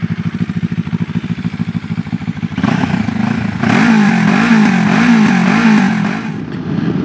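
A QJ Motor SRT 700 trail motorcycle engine idles with a steady pulsing beat, then revs up loud and close, holding a strong droning note before easing off.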